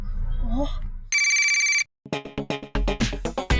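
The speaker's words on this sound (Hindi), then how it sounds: "मोंटू बॉस को फोन लगा।" A phone ringing out while a call is placed to someone: a steady electronic ring tone after a brief stretch of talk, then a pause and a run of rhythmic ringing beeps, close and clear.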